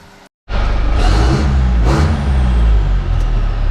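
A Holden TF Rodeo with a manualised A340 automatic and a Transgo shift kit revs hard and close, its engine climbing loudly through the gears after a brief silent gap at the start.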